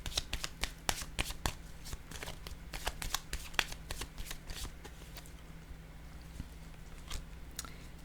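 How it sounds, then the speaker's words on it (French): Playing cards shuffled and set down close by, a long run of sharp riffling snaps and soft slaps in irregular rhythm, over a low steady hum and with no talking. "Je vais déposer une carte pour là."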